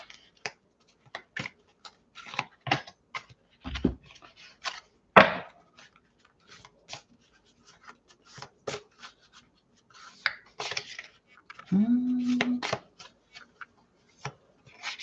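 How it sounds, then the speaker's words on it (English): Oracle cards being shuffled and mixed by hand, a close, dry series of irregular flicks, taps and slides, with a brief soft bump and a short scraping burst later, quiet between sounds, no speech. "I'm going to take, mix them in again, and then one card from each."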